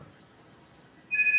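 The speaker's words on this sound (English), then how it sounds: "Phone's ring." A telephone rings indoors: after a quiet stretch, a clear electronic ringing tone starts abruptly near the end, steady and moderately loud.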